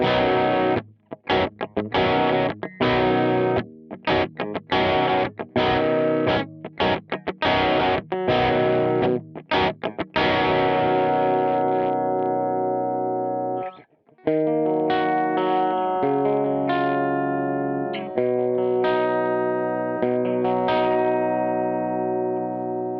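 Electric guitar through a Sonicake Black Hammer pedal pushing the amp to its break point chugs in heavily distorted, choppy stabs, then rings out in sustained overdriven chords with a thick, saturated tone.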